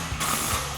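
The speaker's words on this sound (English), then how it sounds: "we're going to tighten down our bolt and apply tension" A ratchet tightens the control arm tension bolt on a 2020-2026 Silverado 2500, heard as one brief, close mechanical burst.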